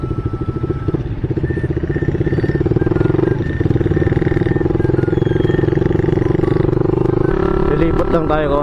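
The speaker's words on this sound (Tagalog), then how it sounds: "medyo maingay yung tambutso natin kaya iwasan mo nating bumomba" A loud Suzuki Raider 150 motorcycle exhaust rumbles steadily up close for the whole stretch, a deep continuous engine drone that swells slightly near the end, with a voice talking over it.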